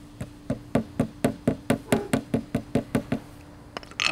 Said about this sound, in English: Tap it in place with a hammer.